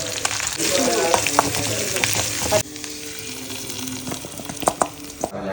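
Ghee sizzles and crackles in a hot pan as ginger, green chili, curry leaves and cashews go in for a pongal tempering. The frying is loud and dense at first, then softens after a few seconds, with occasional stirring clinks.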